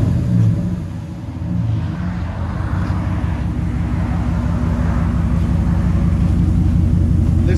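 A 2019 Ram 1500 with the 5.7L HEMI V8, 4x4, running a 3-inch dual exhaust with Flowmaster 40 Series mufflers and the resonator removed, gives a loud, deep, steady rumble that holds throughout, with no voices.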